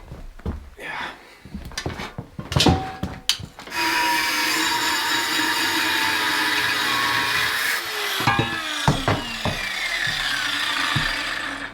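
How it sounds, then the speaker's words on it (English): Angle grinder cutting and grinding on a heavy steel wrap-around bumper tyre carrier for a Jeep Cherokee XJ, a loud sustained whine lasting several seconds after short bursts and clanks, ending in intermittent bursts. "I've been grinding away on the bumper tyre carrier for a little while now"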